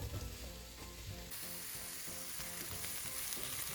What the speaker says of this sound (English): Add the sausage to the onion in the skillet.